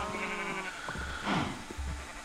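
Sheep bleat in a farming video game, a couple of wavering calls over steady game background noise with no talk.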